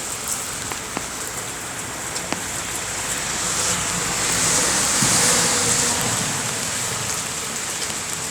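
Steady rain falls on a roof beside a cracked wall, a dense continuous patter with scattered louder drops, swelling slightly midway and never letting up.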